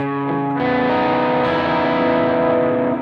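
A distorted electric guitar strikes a chord, then more notes join at about half a second to fill it out, ringing on steadily and loud.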